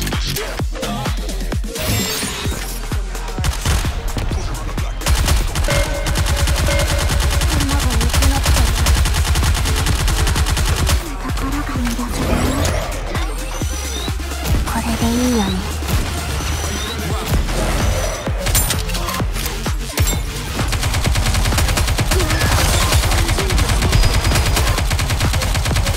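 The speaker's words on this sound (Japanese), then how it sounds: "前方のデッキに一斉射撃。" Rapid volley gunfire from the mobile shooter Nikke: Goddess of Victory, a dense, loud and continuous barrage of shots and impacts that runs almost unbroken through the whole stretch, layered over in-game music and effects with no speech.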